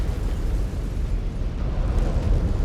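A mech destroyed in a video game erupts in a loud, sustained low-heavy explosion, a continuous rumbling roar with no talk over it.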